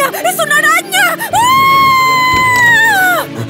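A girl gives a long, loud, high-pitched scream of fright at a spider, preceded by shorter shrieks and exclamations, close and shrill.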